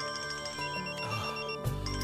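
A mobile phone ringtone plays a tonal electronic melody in a home setting, steady and clear for about two seconds before a sudden louder thump cuts in.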